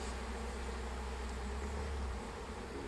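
A small swarm of honey bees at a hive, giving a soft, continuous buzzing hum that stays faint and even throughout.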